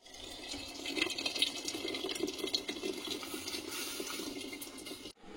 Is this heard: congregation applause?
no